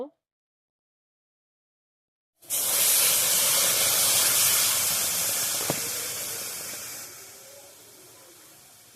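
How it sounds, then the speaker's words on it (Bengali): Water hits a hot pan of sour amrul (sorrel) greens seasoned with chili powder, bursting into a loud, steady broadband sizzle after a silent start, then slowly easing off. "এবারে জল দিয়ে দেব"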